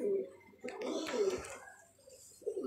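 A pigeon coos in soft, rounded low calls, close by, with a pause and then a further short coo, among fancy pigeons such as Kamangar and Golden Teddy birds.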